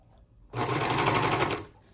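A serger sewing machine running fast through fabric in one loud, close burst of rapid buzzing stitches lasting about a second, with a quiet start and stop.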